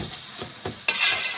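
Chicken shawarma being turned in a hot pan, with a few soft scraping stirs followed by a louder burst of sizzling and crackling frying, close and brief.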